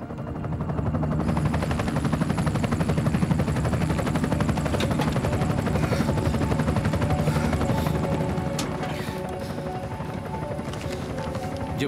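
A helicopter flies steadily overhead, its rotor thumping and engine roaring continuously, easing slightly toward the end.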